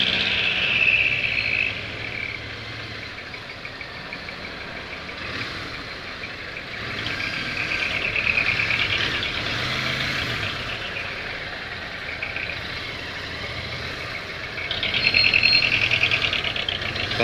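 Busy street traffic of motorbikes, e-bikes, jeepneys, cars and trucks in summer heat, with idling and revving engines rumbling steadily near the listener and a shrill horn-like tone rising briefly at the start, middle and end.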